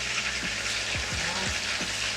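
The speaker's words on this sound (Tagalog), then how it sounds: "iprito muna natin ang chicken" Chicken pieces sizzle and fry in a pan as the first step of chicken adobo, a steady close crackling hiss with a few low clunks of pieces being moved.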